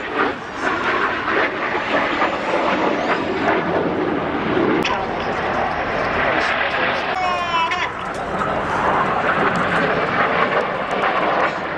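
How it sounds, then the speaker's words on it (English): Red Arrows jets roar overhead at the Wales National Airshow 2017, a broad, loud, sustained jet rush that swells and fades, with a commentator talking over it throughout. "the following pilots use their feet to input a lot of rudder and swing the jets out like a pendulum in line astern"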